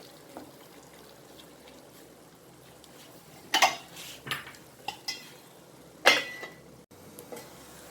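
Utensils clink and scrape in a pan of anchovy dry fish curry, with a few sharp metallic knocks and clatters, one strong clank likely the lid, over a quiet background.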